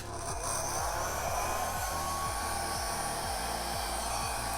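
Steady, close blast of air blowing across poured acrylic paint on canvas, a continuous whooshing roar with a regular pulsing low hum underneath, with no talking.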